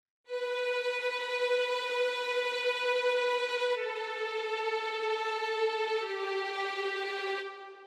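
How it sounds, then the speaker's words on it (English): Orchestral string legato patch from the Synchron Prime Edition library with tremolo, sustained bowed tones gliding smoothly between notes in two legato transitions, steady and full, heard alone without voices. "You hear that we have a legato transition with some tremolo"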